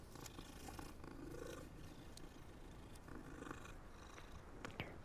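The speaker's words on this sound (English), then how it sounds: "Cat, let's pet it." A cat in the Hogwarts video game purrs softly and steadily with a low rumble. The purring goes on for several seconds and has no voices over it.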